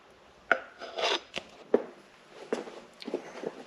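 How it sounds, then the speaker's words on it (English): Motorcycle fork cylinder being pumped by hand to bleed oil during a fork seal replacement on a 2018 Honda Grom, heard as a quiet series of irregular scraping, rubbing and soft clicking strokes close by, with no talk. "With each pump, it's sucking the oil down into the cylinder, not just the top chamber."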